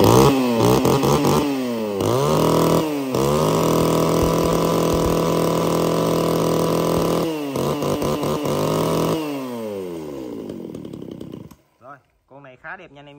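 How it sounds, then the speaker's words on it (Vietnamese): A used red Geno chainsaw is pull-started and runs loudly up close, its engine revving and idling through repeated throttle rises and drops before cutting off near the end. "Rồi giật máy con này luôn."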